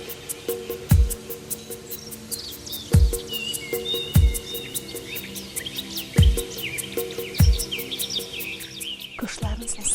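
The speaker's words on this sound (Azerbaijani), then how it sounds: "Quşların səsinə diqqət edin." Birds singing in a green forest along a road near Gedebey, Azerbaijan, with chirps and trills layered over a steady insect buzz and several low thuds, close and fairly loud.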